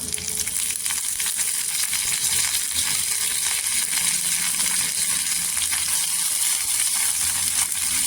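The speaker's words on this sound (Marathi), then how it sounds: "राई जिरं छान असं तरतरलं पाहिजे" Mustard seeds and cumin crackling in hot oil with fresh curry leaves for an arbi bhaji, a dense, continuous loud sizzle with fine popping spatters, steady and close throughout with no talking.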